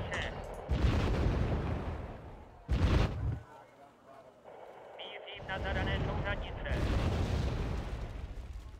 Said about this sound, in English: These are like napalm bombs, I think. Yeah, but they have HE power on them. Thermobaric.